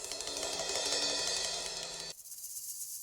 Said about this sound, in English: cymbals and a shaker